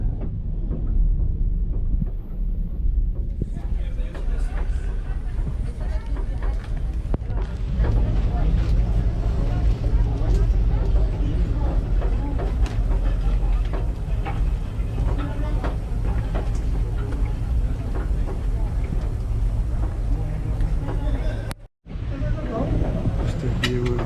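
Steady low engine rumble and water churn of the Staten Island Ferry docking, with faint background voices throughout and a brief dropout near the end.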